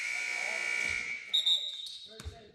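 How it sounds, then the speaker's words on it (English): A long, loud electronic buzzer blares in an indoor basketball gym during a game, then cuts off into echoing crowd noise and a faint squeak. "they're going to sound the buzzer for something"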